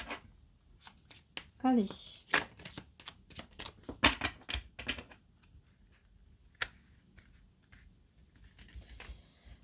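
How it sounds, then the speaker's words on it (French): A deck of tarot cards is shuffled by hand in a series of quick papery riffles and flicks, close and moderately loud, with a brief spoken word near the start. "Allez, je vais bien mélanger mon jeu."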